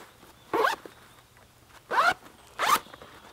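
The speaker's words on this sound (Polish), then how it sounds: "Po obu stronach są suwaki." A zipper on the side pocket of a Helikon backpack is pulled three times in quick strokes, close and crisp with short pauses between, and no talk.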